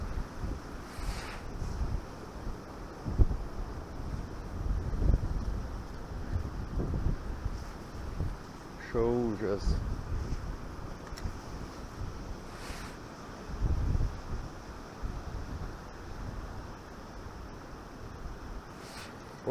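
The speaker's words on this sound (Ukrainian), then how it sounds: "був трохи менший вітер, а це геть розгулявся такий" Strong wind buffets the microphone in uneven rumbling gusts while fishing at the water's edge, with water lapping nearby and a brief squeaky sound partway through.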